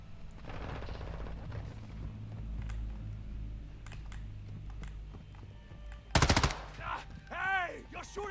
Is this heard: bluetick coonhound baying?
no